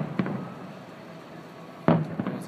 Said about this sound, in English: The fireworks. That's it.